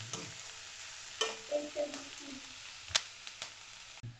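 Shredded cabbage is sautéed on medium flame for vegetable egg Maggi, a faint background sizzle with a few scraping stirs and clinks of a spoon against the pan, quiet and close, nobody speaking.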